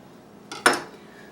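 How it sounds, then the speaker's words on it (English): A knife slicing burger meat down the center, heard as a faint brief scrape followed by a sharper clink against a plate or board, close and alone in a quiet kitchen. "we're going to go ahead and slice it down the center."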